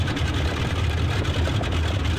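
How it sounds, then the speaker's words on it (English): Both engines of a Boeing 247D in a flight simulator game run steadily at idle, a close, continuous low thumping drone with no talk over it. "So both engines are now up and running. You can hear them thumping away there."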